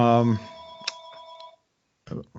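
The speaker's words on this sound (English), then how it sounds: "phone's ringing" A telephone rings with a steady electronic tone for about a second in a quiet indoor podcast setting, with brief talk just before and after.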